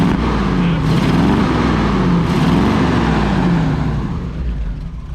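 Old 1966 Chevrolet C10 pickup truck engine idling and running steadily, a loud close rumble with slight rises in revs throughout, nearly alone with no clear talk.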